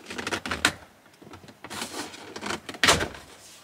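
A center console trim panel on a VW Passat B8 GTE being pried loose by hand, with short bursts of plastic creaking, scraping and clicking separated by brief pauses, close and fairly quiet, with no talking.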